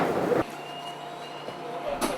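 A subway train on the commuter line from Ilsan runs with a steady interior rumble and a faint motor whine, heard from inside the carriage, with a couple of soft knocks along the way.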